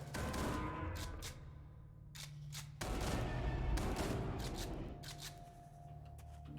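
Shotgun blasts in the video game Jupiter Hell come as loud, rapid bursts, with short gaps between clusters of booming shots and rattling clatter. No one speaks.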